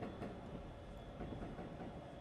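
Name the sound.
train running in video game Densha de Go Yamanote Line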